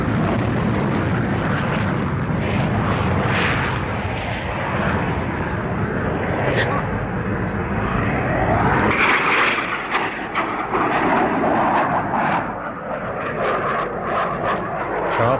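Several fighter jets rolling onto a runway before takeoff, a loud continuous engine roar and whine that shifts in tone midway, with sharp bursts over the drone.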